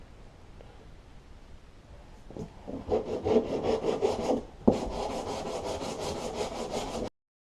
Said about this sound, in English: you're going to start sanding this right here until it is evened out